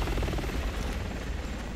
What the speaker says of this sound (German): Komm, der Helikopter muss sich drehen.